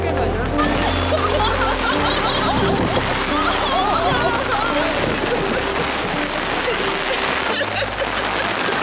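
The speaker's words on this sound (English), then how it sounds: "the wind and the rain got crazy" Heavy rain and gusting wind sweep over a riverside lantern-floating event in Kyoto, Japan, making a dense, loud, constant roar of spattering drops with voices faintly underneath.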